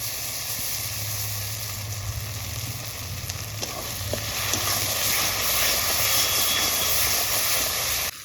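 Ginger garlic paste sizzling in oil in a pan for a prawn malai curry, a continuous hissing fry with a low steady hum beneath it, growing slightly louder toward the end, no speech.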